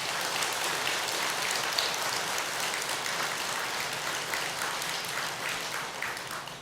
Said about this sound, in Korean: 다음 생에 한번 얼마나 만나고 싶은가 박수 소리로 한번 표현해봐